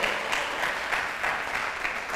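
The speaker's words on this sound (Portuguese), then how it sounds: "Tem alguém aqui que podia dar um aplauso ao Senhor?" A church congregation claps together in a steady, dense wash of applause that holds evenly throughout, fairly close and with no voices standing out.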